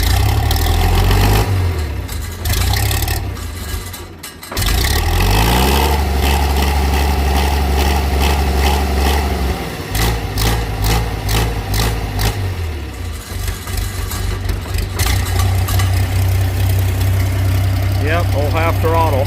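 Farmall 756 tractor engine cranking and starting, then settling into a steady, close, loud diesel idle with throttle changes partway through, as people talk over the running engine.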